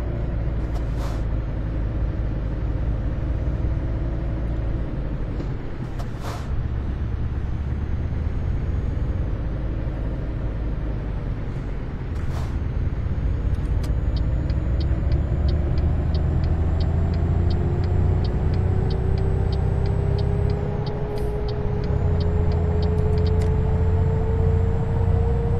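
Scania truck in Euro Truck Simulator 2 driving steadily, a loud continuous engine drone with slowly rising pitch as it pulls, punctuated by a few sharp air-brake hisses; no talking.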